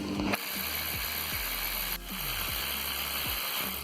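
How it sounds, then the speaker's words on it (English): A ratchet wrench works loose the bolts on the power steering pump of a 2004 BMW 320d diesel during alternator replacement, with repeated clicking strokes over a steady background hum, close and fairly loud. "we're going to take this bolt off, we're going to take that bolt off"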